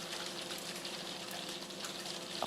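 Hailstones falling outside make a faint, dense, continuous patter and hiss, steady and distant with no clear individual impacts.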